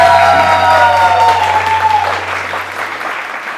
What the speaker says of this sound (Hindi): बहुत सारी तालियां सुमैया के लिए।